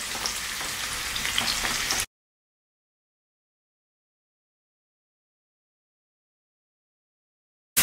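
Cubed pork belly sears in a pan for Hakka-style braised pork, a steady close sizzle lasting about two seconds before cutting off into silence.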